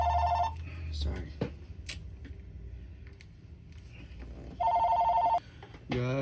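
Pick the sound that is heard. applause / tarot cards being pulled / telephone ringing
telephone ringing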